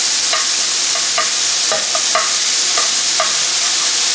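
Cooked roast beef for cheesesteak sandwiches sizzles loudly and steadily in a hot pan, a constant close hiss broken by repeated scraping stirs and light clinks, with no voices.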